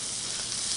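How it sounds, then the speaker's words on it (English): Chicken frying in a pan with orange juice added gives a steady, close sizzle that stays even and unbroken for under a second. "And the chicken's getting cooked underneath now."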